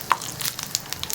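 Mustard, cumin and fenugreek seeds spluttering in hot oil, a crackle of sharp irregular pops over a steady sizzle, close and lively.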